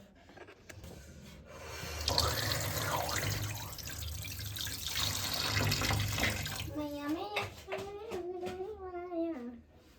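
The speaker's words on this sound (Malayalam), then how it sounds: "ഈ വെള്ളം കൂടെ നമുക്ക് ഊറ്റി കളഞ്ഞു നോക്കാം." Water is poured off settled aloe vera starch, a splashing trickling pour lasting several seconds before someone begins talking.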